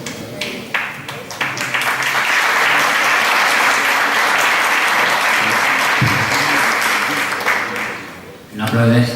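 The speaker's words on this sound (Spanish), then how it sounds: "No aplaudes ahora" Loud, sustained applause from a crowd at a political party's regional meeting and debate in Cantabria, filling most of the stretch before tapering off near the end, with voices mixed in.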